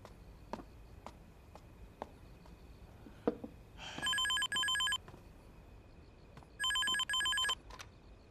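Telephone ringing in two double-burst electronic rings, fairly loud against a quiet room with faint ticking and small background noises.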